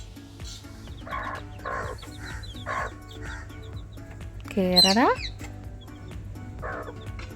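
A hen with chicks clucks repeatedly in short bursts, joined by one louder rising squawk midway, with a person speaking in the background.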